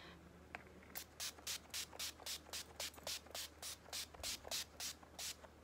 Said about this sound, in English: and then I'm gonna spray